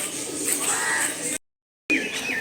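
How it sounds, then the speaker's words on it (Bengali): Pigeons coo softly amid a busy outdoor bird chorus in the garden of Ramakrishna Mission Ashrama, Ramharipur, Bankura, with peacocks kept nearby, and a brief gap of silence partway through. "সাইডে পায়রা, প্রচুর পায়রা রেখেছে"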